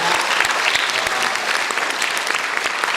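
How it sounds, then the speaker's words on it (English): Sustained audience applause at a candidate forum, steady dense clapping from a crowd filling the whole stretch with sharp individual claps standing out near the front. "So I would love if everybody here would give them a round of applause and say thank you for doing that."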